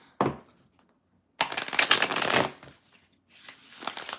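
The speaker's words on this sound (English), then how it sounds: "I'm being told to shuffle more for you, Virgo." Tarot cards are shuffled in two quick bursts of riffling and flicking, close to the microphone, with a short quiet pause between them and a softer shuffle at the end.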